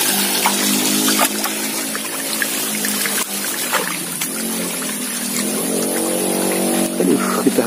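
Clear river water flowing through a village stream, a continuous rushing and trickling close by that stays steady throughout, with occasional splashes and small knocks over the constant flow.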